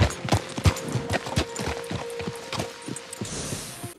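Horse hooves clip-clopping in the video game Red Dead Redemption 2, a steady walking rhythm of close, crisp hoof strikes on firm ground with a faint background hum.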